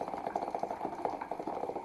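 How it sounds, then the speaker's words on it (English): Rainwater leaks into a waterlogged cardboard box fort, giving a rapid irregular patter of drips and splashes that carries on steadily at close range, with no voices. "Oh, it's starting to kind of leak."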